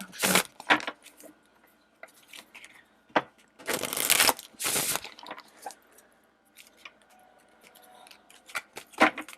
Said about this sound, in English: I'm going to shuffle them all out.